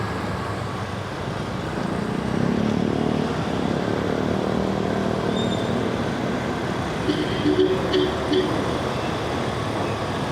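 Honda Click 125 scooter ridden along a road, its engine and wind noise a steady, loud rumbling drone throughout with no pauses.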